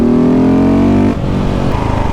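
KTM 690 SMC R motorcycle ridden over the Passo Tre Croci in the Dolomites, its engine droning loud and close, then dropping briefly and picking up again in a new tone, as if shifting gear.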